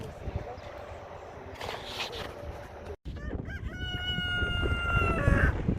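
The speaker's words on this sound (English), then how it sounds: "The chickens kind of come running when you come out." Chickens cluck near a rural farm, and a rooster crows clearly near the end over steady background noise.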